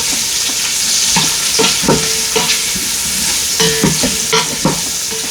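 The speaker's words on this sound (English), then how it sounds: "here you can see our sausage is already browning real nicely" Smoked sausage browning in an Instant Pot gives a steady close sizzle and frying hiss, broken by repeated stirring scrapes and knocks in an uneven rhythm, with no talking.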